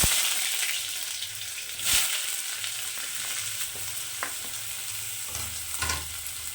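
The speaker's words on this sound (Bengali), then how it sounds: "পেঁয়াজটা দিয়ে দিয়েছি এখন পেঁয়াজটা একটু হালকা ভেজে নেব" Chopped medium onions fry in hot oil over tempered spices in a pan for a South Indian chicken curry, a steady close sizzle with occasional scraping stirs of a spatula.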